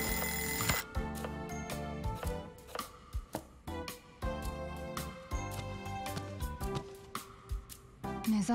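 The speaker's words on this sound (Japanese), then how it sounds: "目覚ましの場所変えたのに、よく寝たまま止められるね。" Repeated bright, sharp ringing bursts from an alarm clock in the video game Lost Judgment, sounding loud and close in an irregular rapid rhythm over a dense, busy background of music.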